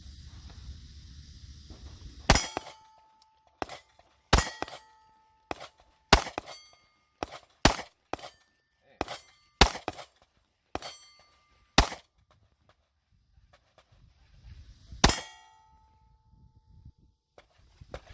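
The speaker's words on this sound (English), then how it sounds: "I'm going to shoot at the square plate real close and see how it handles." Shots from a Ruger EC9s pistol hit a square steel plate at close range, a dozen sharp cracks in an irregular sequence, each with a bright metallic ring that fades into near silence between shots.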